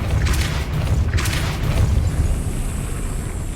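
A Depulso spell cast in Hogwarts Legacy, a booming magical blast with two bright bursts over a heavy low rumble that carries on to the end.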